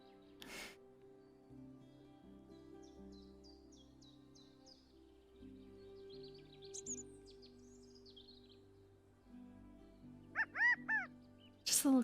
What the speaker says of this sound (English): Just a little quail noise.